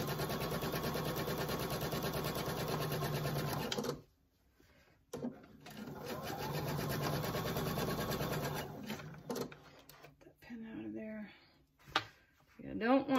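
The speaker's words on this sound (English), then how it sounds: "now I'm just going to sew across the bottom" A sewing machine runs steadily, stitching across the bottom of a fabric tote bag, with a brief pause around four seconds before the motor resumes its fast, even whir, then stops and starts in short bursts near the end.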